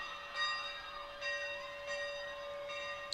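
A bell rings in repeated strikes from a homecoming parade float passing along a university parade route, heard at a distance under steady crowd and street noise.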